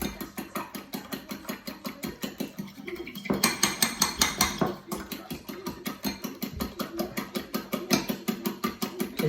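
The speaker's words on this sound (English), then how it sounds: "So all the squid ink in, and then we're just going to mix it up, guys." Squid ink being mixed into pasta dough in a bowl, steady rhythmic clinking and scraping of utensil against the bowl, fairly quiet and continuous throughout.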